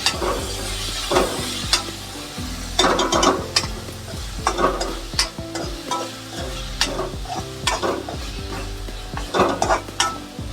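Tomatoes cooking in a pan for egg rice, giving a steady low sizzle broken by repeated loud scraping and clattering stirring strokes, close up and with no talk.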